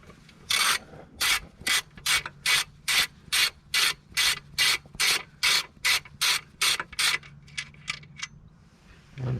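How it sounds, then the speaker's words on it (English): A hand ratchet with a 13mm socket loosens the alternator nut on a Peugeot 407 2.0 HDI engine, a fast, even series of about fifteen close, crisp clicking strokes, then a few lighter ticks, with no voices. "you're just gonna take a 13 head, put on this nut and undo it anti-clockwise"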